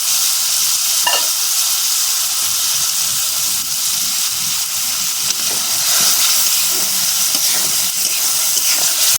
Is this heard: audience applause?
no